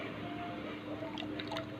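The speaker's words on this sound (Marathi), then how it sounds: "यामध्ये घेणार आहे मी पाणी, याच्यामध्ये टाकून घेणार आहे" Water is poured into a batter of spinach and green peas for fritters. It makes a soft, steady, faint liquid wash with small squishy drips and no talking.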